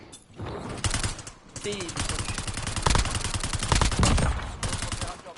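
Rapid submachine gun bursts in a first-person shooter video game, dense fast-firing volleys with sharp cracks that keep returning throughout, loud and close.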